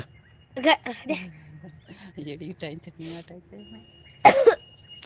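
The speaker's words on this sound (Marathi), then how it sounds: "खोकला बी यायला" A person coughs twice, one short harsh burst near the start and a louder one near the end, with a person talking in between.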